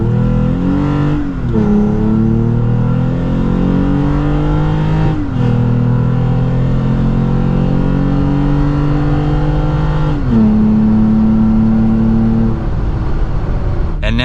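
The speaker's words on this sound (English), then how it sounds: "now we are about to do a full pedal acceleration with the entire exhaust going all the way back to the tips" A Toyota Tacoma with an AWE true dual exhaust system makes loud full-throttle acceleration runs, the engine note climbing through rising revs before dropping at each shift, repeating several times close to the microphone.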